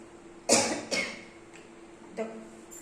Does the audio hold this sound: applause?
no